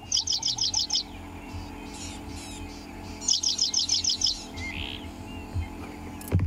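An unidentified wild bird calls at sunrise in the South African bush, giving two bursts of rapid, evenly spaced high chirps with quieter calls between, fairly close and clear over faint background ambience.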